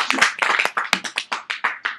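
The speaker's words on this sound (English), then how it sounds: "A round of applause." A small class of students clapping for classmates who just read an acrostic poem about mammals, a short burst of close, uneven handclaps that settles into distinct rhythmic claps.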